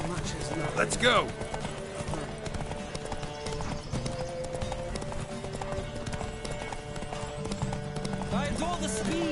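Horse hooves clip-clop at a quick galloping rhythm in the video game The Witcher 3 while people talk over them, with a brief whinny near the start.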